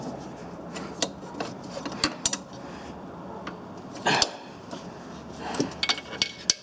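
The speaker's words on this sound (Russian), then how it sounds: "И закручиваем нижнюю гайку." Stabilizer link nut being tightened on the rear suspension of a Ford Focus 3 with a socket wrench, giving soft rasping metal ratchet clicks and scrapes in short irregular bursts, close and fairly quiet.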